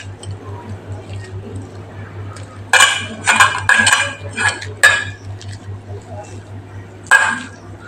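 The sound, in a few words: mashing potatoes in a bowl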